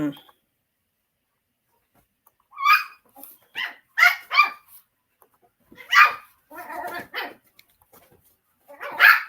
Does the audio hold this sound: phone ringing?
no